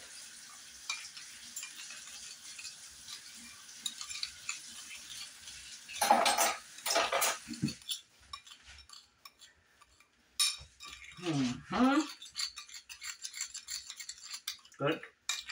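A dry spoon clinks and scrapes against dishes while a Scheiterhaufen bread pudding is layered with cinnamon and sugar, giving several scattered close clatters amid quiet kitchen background.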